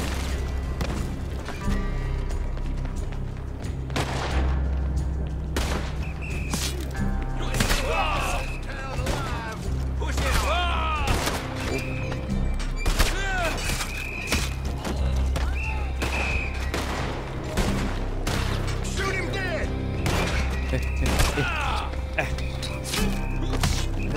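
Enemies firing guns in a video game: repeated loud gunshots and booming thuds scattered throughout, some in quick clusters, over a steady low rumble, with occasional voices.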